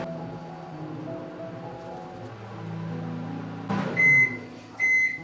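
A microwave oven runs at medium power melting chocolate, a steady low hum that fades out, followed by a thunk and two loud electronic beeps.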